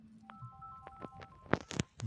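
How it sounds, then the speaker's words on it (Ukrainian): A mobile phone rings at a used-car market, a thin steady electronic tone running under scattered clatter and short bursts of nearby noise, with no speech. "ваш телефон там вас хоче"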